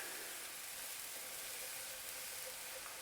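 Steady broadband sizzle of a hot pan being deglazed with water for a chicken casserole, a constant close hiss with no breaks and no talking.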